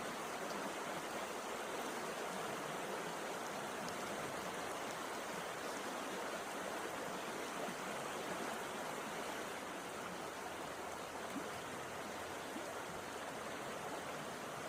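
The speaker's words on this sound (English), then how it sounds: "Can you guys hear the river okay?" Steady broadband rush of a flowing river, continuous and even throughout, close and fairly full, with no voices or other sounds over it.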